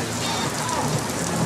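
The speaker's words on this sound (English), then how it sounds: "it's raining like crazy" Heavy rain pours steadily in Nara, Japan, a dense, loud hiss of drops hitting surfaces, with no break.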